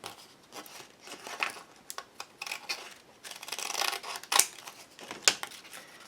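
Scissors snip through a sheet of screen mend for a book page, several short close cuts mixed with light crinkling and rustling of the material, quiet with no voices.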